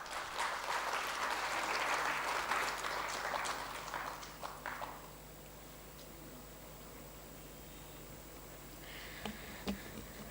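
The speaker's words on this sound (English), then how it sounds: "Let's have a round of applause." Audience applause at a felicitation ceremony during a university industry-academia conclave valedictory session; dense clapping fills a hall for about five seconds, then fades to a quiet room with a few faint knocks and shuffles.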